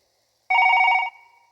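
A mobile phone rings once, a short bright electronic trill lasting about half a second and fading quickly, loud and alone with no talk.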